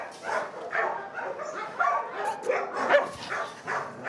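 A dog at an animal shelter barks repeatedly in a fast, uneven series of sharp yips and whimpery barks, close and fairly loud, with no break across the stretch.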